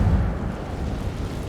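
Incendio fire spell cast in Hogwarts Legacy in the Forbidden Forest: a short, rumbling burst of flame that dies into a low roar, with no voices.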